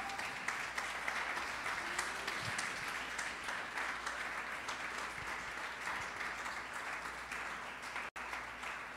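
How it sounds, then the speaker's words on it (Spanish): A crowd applauds steadily throughout, a dense, continuous clatter of many hands clapping at moderate distance. "¿Por qué no le das un aplauso al Rey?"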